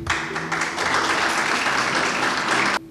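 An audience at an exhibition opening in a diorama hall applauds to welcome the artist, a dense, loud burst of clapping that holds steady and then cuts off abruptly.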